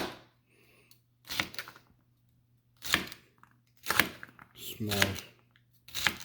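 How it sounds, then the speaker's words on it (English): Knife chopping bhindi (okra) into small pieces on a board: a handful of sharp, separate cuts spaced about a second apart, close up, with brief speech between them. "So I'll start cutting the bhindi."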